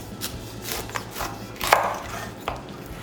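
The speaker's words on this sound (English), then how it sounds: "this is, I think, pretty standard way of cutting the pineapple" A knife slicing through a pineapple, peeling the tough skin away from the fruit: a few soft, scraping cuts and rasping strokes close by, with one sharper crunch partway through, no talk.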